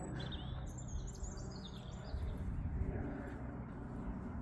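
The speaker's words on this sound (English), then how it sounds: "I've heard so many birds." Birds singing and chirping at a quiet winter allotment on a bright day, several high twittering calls near the start over steady low outdoor rumble, the song fading to faint scattered chirps later.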